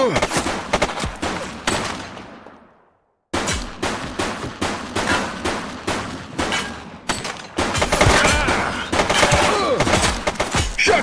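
Rapid, close gunshots from the police game The Precinct come in sharp repeated bursts, with a brief silent gap before a steady string of cracks that thickens into heavier, denser firing toward the end.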